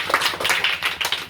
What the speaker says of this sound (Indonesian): Oke, baik, tepuk tangan buat.